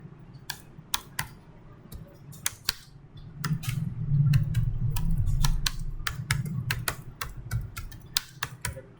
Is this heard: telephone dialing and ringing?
no